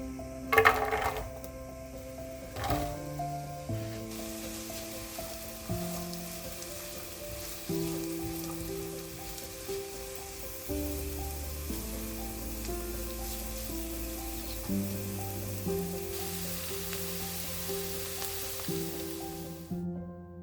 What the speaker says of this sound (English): Fry the onion.